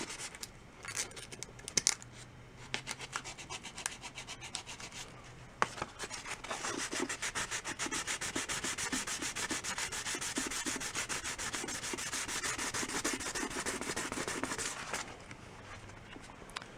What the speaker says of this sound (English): get a closer sand around that badge